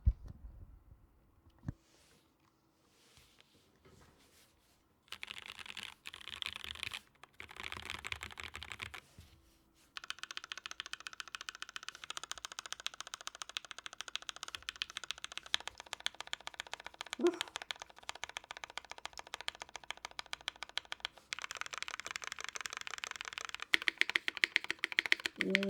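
Typing on a custom mechanical keyboard with Gateron switches fitted with Gateron milky tops, a full aluminum plate and GMK keycaps: dense, steady key clatter in bursts, up close, with short pauses between runs.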